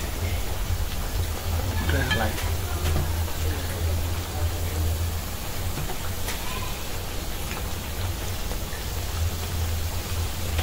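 Potatoes deep-frying in oil give a continuous, even sizzle like rain on a surface, close and fairly loud, with a few faint clicks and stirring taps. No one speaks.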